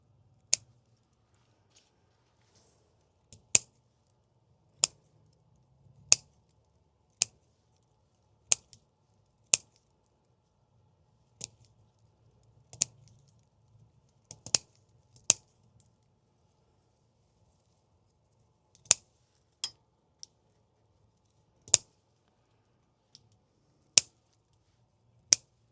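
Scissors snip soft herb stems in a mid-August kitchen garden, making crisp, close, isolated clicks at an irregular rhythm with quiet pauses between them.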